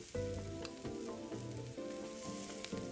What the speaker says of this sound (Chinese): 加入豆芽和韭菜翻炒约30秒。